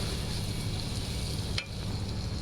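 Dried loitta fish frying in a pan as it is stirred, a continuous close sizzle with a brief sharp scrape of the utensil partway through.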